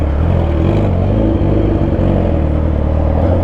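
Loud and close, a Yamaha R6 sport bike on a night ride drones and revs with a rough, steady engine roar that barely lets up.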